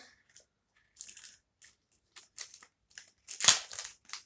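Plastic packet of football cards torn and crinkled open, a series of short crisp rustles and crackles building to one louder rip near the end, close by with no talking.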